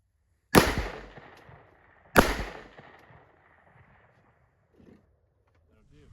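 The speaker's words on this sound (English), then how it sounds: "we took a few shots from the top of my Polaris Ranger" .177 rifle shots fired from the top of a Polaris Ranger outdoors: two loud sharp reports about a second and a half apart, each trailing off in a ringing echo, followed by faint small noises.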